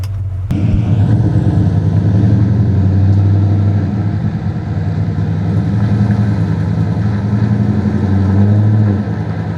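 A Chevrolet C10 hot rod truck's engine starts and runs, a loud, close, steady low rumble with a deep throbbing idle that holds evenly, alone without talk.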